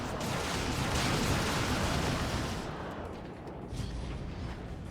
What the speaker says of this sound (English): But now here comes the Mekboy gun.